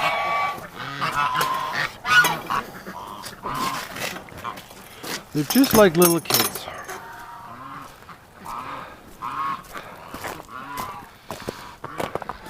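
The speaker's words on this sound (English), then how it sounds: "Oh man, ducks" Ducks quack and honk close by in scattered bursts, while a person talks over them.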